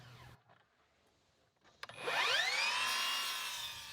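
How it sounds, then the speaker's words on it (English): A power saw cuts a 45-degree angle at the top of a wooden post for a firewood rack. After two near-silent seconds and a sharp click, the motor whines up loudly and keeps cutting steadily to the end. "cut a 45-degree angle at the top of the post as a decorative element"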